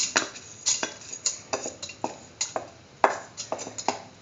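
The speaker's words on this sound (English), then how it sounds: "put in cup of washed and soaked rice" Washed, soaked rice going into a pressure cooker holding cooked cauliflower and chayote, with a series of light metallic clinks and scraping taps from a utensil against the pot, irregular and fairly close, with no talk.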